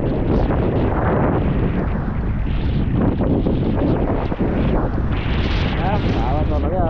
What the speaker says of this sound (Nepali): हावा चल्यो क्या अब फेरि